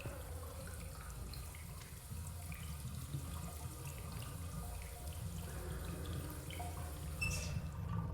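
Steady running water filling a sink in the Phasmophobia video game, a faint continuous trickle with occasional drips, heard alone without speech.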